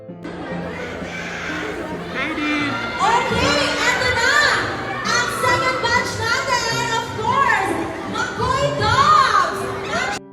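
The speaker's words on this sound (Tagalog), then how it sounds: "nangingibabaw ang hiyawan ng kanyang mga fans" Fans screaming at the premiere night of a movie, high-pitched excited shrieks and cheers from a crowd rising in waves, loud and sustained, with chatter and voices mixed throughout.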